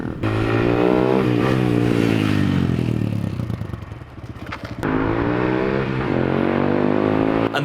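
A motorbike with a newly fitted aftermarket clutch on a test ride, its engine loud and close, revving up through the gears, easing off, then accelerating hard again with a steady rising drone.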